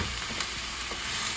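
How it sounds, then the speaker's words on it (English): Shrimp, vegetables and mushrooms sizzling in a pan, a brief, steady, fairly loud hiss with no talk. "Now throw in the mushrooms."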